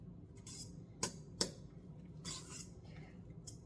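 A spoon stirs cottage cheese batter in a bowl, giving a few sharp clinks against the sides and soft scraping swishes between them, quiet and close, with no talk.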